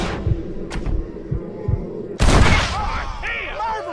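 Gunfire from the Red Dead Redemption video game: a series of sharp shots in quick succession, then a louder blast with a ringing tail, alongside raised character voices and shouting.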